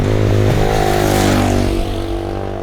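Herald Brute 500 motorcycle engine running loud and close, a steady harmonic drone that rises in pitch early on, then settles and eases slightly toward the end.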